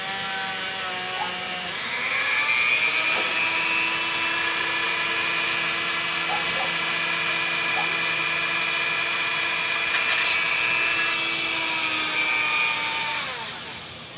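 A Dremel rotary tool drills into a Shimano XT rear derailleur part, a steady high-pitched whine that spins up after about two seconds, holds evenly near the microphone for roughly eleven seconds, then winds down.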